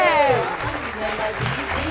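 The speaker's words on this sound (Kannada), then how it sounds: "ಬರ್ಲಿ ಜೋರಾದ ಚಪ್ಪಾಳೆ ನವೀನ್ ಕುಮಾರ್ ಜಿಜಿ ಅವರಿಗೆ" Loud applause for Naveen Kumar GG at the finale of the Kannada singing show Gaana Sinchana, a dense wash of clapping under a speaking or singing voice.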